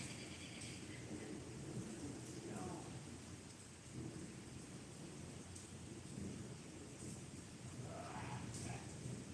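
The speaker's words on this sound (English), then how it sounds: "As you can hear, it's down in Houston, Texas, so it's nice and rainy right now." Steady rain falling in Houston, Texas, with low rumbles of thunder rolling beneath the constant hiss, faint and distant-sounding, with no talk.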